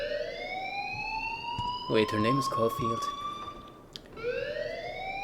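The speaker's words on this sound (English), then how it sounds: "please turn off that alarm since that's your job" A sweeping electronic fire alarm in the video game Life is Strange wails steadily and loudly, its rising tone continuing under a brief stretch of game dialogue before sounding alone again.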